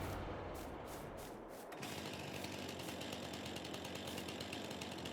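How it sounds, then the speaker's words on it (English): Chainsaw in Farming Simulator 22 on the Elk Mountain Wyoming map, a steady buzzing engine drone that shifts pitch partway through and then runs on continuously and loudly, with no talk over it. "Let's hope the chainsaw works."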